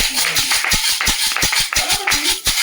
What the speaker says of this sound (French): Ce soir, on peut applaudir d'abord ce Dieu-là.